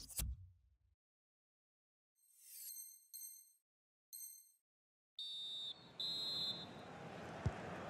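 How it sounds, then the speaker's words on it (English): Referee's half-time whistle in a FIFA 19 football match: a few short, shrill whistle blasts, then longer sustained blows over faint crowd noise; quiet overall and fairly close. "Half-time whistle."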